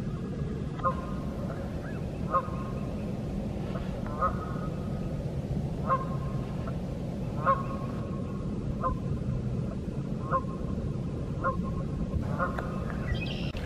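Geese honk at a lake in Jefferson Memorial Forest on a February morning, repeated faint calls spaced every second or so and somewhat distant, over a low steady background.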